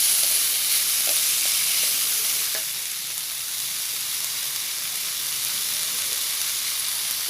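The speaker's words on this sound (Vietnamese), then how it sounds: "Mình bắt lửa lên mình xào quá, nó dậy lên cái mùi rất là thơm." Radish and tofu stir-frying with lemongrass and chili in a pan at home, giving a steady, close sizzle and hiss that fades slightly midway and carries on evenly, with no talking.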